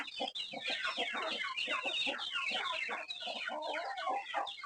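Village chickens cluck and squabble continuously in a dense, busy chorus of overlapping clucks and squawks, close and fairly loud.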